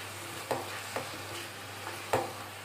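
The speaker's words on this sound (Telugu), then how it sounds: "ఇలా పచ్చివాసన పోయే వరకు వేయించుకోవాలి." Cumin and garlic paste frying in a pan as it is stirred, a steady soft sizzle broken by a few sharp scraping clicks of the spoon, close and alone.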